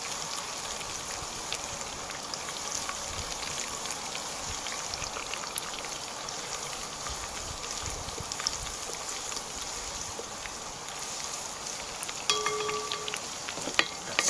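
Steady crackling sizzle of beef frying in a pot over a barbecue for goulash, dense and continuous, with occasional sharper pops and a faint clink near the end.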